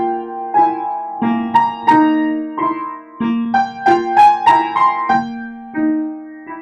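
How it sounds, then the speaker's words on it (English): Piano practice of a triplet passage with only the first note of each triplet group played, giving sustained single notes and chords struck in a steady, spaced rhythm, heard clearly and alone. "What I would do there, Ruth, I would play the first note of every triplet group"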